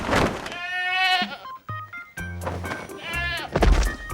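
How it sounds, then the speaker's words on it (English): Male goats bleating loudly up close, two long wavering cries separated by thumps and a short pause, with a third bleat starting at the end. "Kari, these are the male goats."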